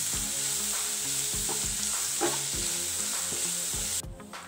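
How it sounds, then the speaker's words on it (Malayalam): Masala powders sizzle steadily in hot oil for beef cutlet filling, with repeated scraping stir strokes of a spoon against the pan; close and continuous, with the frying hiss easing off near the end. "ഇതിലേക്ക് ഈ മസാലപ്പൊടികൾ കൂടി ചേർത്തിട്ട് ഈ പൊടികളുടെ പച്ചമണം മാറുന്നത് വരെ ഒന്നുകൂടി ഇളക്കി കൊടുക്കാം."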